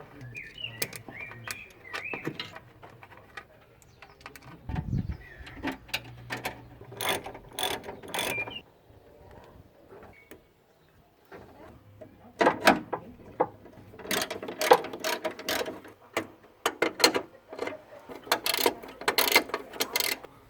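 Ratchet tightening a screw into the rear fan bracket of a Ford Capri, heard as several bursts of rapid clicking with pauses between, close by, with some low handling noise.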